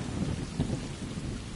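Rain pours steadily in the video game Stray while a thunder rumble swells briefly partway through, forming a dense, close storm wash with no voices.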